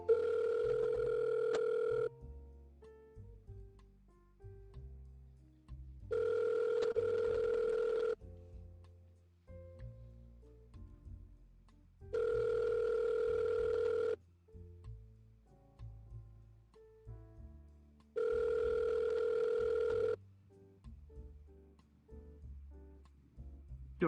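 A phone call rings out on the line: four evenly spaced two-second ringback tones repeat at roughly six-second intervals, clear and alone against faint background sounds.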